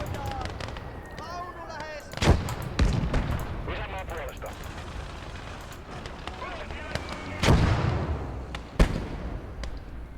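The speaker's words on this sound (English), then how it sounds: "We need artillery support here." Artillery fire in the Motherland war video game, several heavy booming blasts at irregular intervals over a busy battlefield din, with someone talking throughout.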